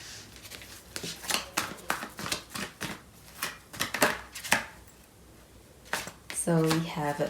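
Tarot cards shuffled and handled by hand, a series of quick papery riffles and snaps in irregular bursts, close by, with a voice speaking at the end.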